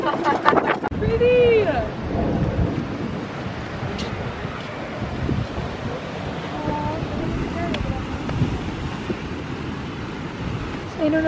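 Wind gusts on a Florida beach, making steady rushing microphone buffeting mixed with the wash of surf. People talk and shout over it throughout.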